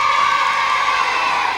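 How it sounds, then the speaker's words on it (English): Children cheering for the Green team on a TV quiz show, a short burst of loud, high-pitched crowd shouting and whooping held steadily throughout. "Come on, Greens, give them a bit of a cheer"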